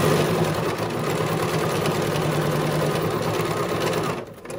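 A sewing machine stitching the lining seams of an embroidered face mask, a steady close mechanical whir with fast rhythmic needle ticking that stops abruptly near the end, and no talking.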